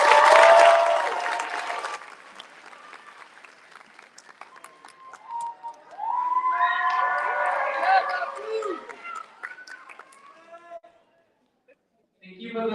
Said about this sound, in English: Can you give her another round of applause?